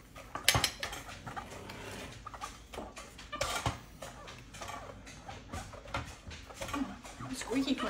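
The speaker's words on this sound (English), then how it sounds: "I'm gonna have to rewash dishes." Dishes being washed by hand, with cutlery and crockery clinking, a pot scrubbed and water splashing in a sink, in a steady stream of close, irregular knocks and rattles. Someone talks quietly in the background.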